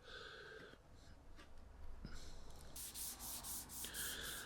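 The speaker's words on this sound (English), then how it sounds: "Then I'm just sanding everything over with a 240 grit" Wood being hand-sanded with 240 grit sandpaper on a DIY project, making soft rhythmic scratchy rubbing strokes that come and go, close up and fairly quiet, with no talking.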